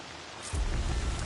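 Steady rain in the video game Horizon Forbidden West, a dense hiss that swells louder partway through with a low rumbling undertone, heard alone without voices.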